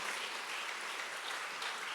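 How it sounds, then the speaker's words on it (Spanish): Congregation applauding during a church service, a steady dense wash of clapping filling the whole stretch without a break, fairly loud and close. "Dar un aplauso al Señor"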